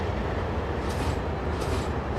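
An Amfleet and Comet V passenger train runs along the Bayport Branch in snow, giving a steady, loud rolling rumble with faint rail hiss throughout and no pauses.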